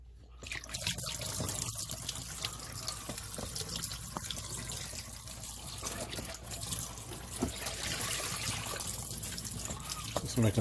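Water draining out of a wringer clothes washer, a continuous rushing trickle and splash close by that carries on throughout, with a voice speaking briefly over it.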